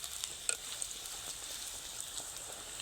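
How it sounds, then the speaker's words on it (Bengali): Luchi, a puffed flatbread, frying in hot oil, giving a steady close sizzle with scattered crackling pops and no talk. "ঠিক এরকম একটু লালচে লালচে কালার করে ভাজবেন লুচিগুলো"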